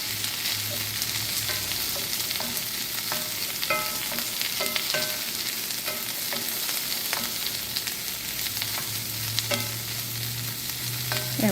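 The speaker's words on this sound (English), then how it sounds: "So now I'm going to add our onions. I'm going to saute these guys up here a little bit." Onions sautéing with rendered bacon fat in a pan: a steady bright sizzle with scattered crackles and pops throughout, plus occasional scraping stirs, with no voices.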